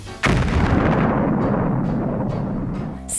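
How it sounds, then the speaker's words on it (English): A single large bomb detonates in a video game, a sudden loud blast followed by a long rumbling roar that slowly fades over about three seconds, with no speech over it. "the bomb will go off."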